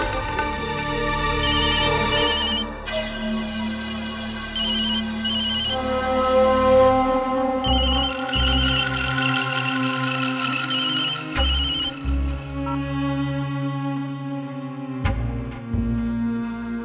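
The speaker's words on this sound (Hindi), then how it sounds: "ए चंदुआ, तुम बाबूजी का फोन लगा के दो।" An electronic phone ringtone plays while a call is being placed, a loud, layered melodic tone that loops with steady sustained notes and brief breaks, heard alone with no talking.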